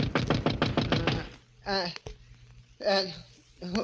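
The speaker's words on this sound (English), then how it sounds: "And then a knock on the door wakened me." In a radio drama, a rapid series of about eight sharp knocks raps on a door, close and loud, followed by short vocal sounds with quiet pauses between them.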